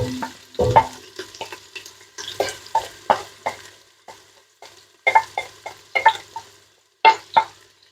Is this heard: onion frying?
yes